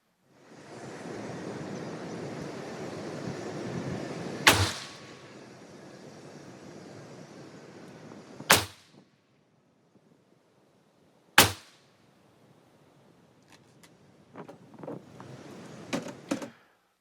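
9mm NATO 124-grain rounds fired through the 8.9-inch barrel of a Mac 5, three sharp loud reports spaced several seconds apart amid outdoor wind rumble, followed by faint clicks and handling noise.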